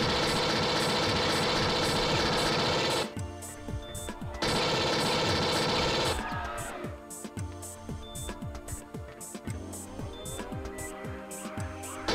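Smart gun firing in the game Alien Trilogy, a loud sustained burst of rapid automatic gunfire that cuts out, returns, then gives way to scattered clanking shots and mechanical rattles.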